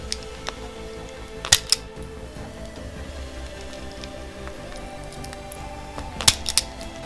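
An electrical earth wire for the alternator on an MX5 turbo build's coil and injector sub-harness is stripped, with two brief clusters of sharp, close clicks from the stripping tool over a faint steady background.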